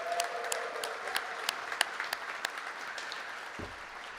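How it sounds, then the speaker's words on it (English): An audience claps for the Melville Scholars at a Moby Dick reading marathon, a fairly faint, distant round of applause with a few distinct sharper claps rising above the steady patter. "Let's give them another round of applause."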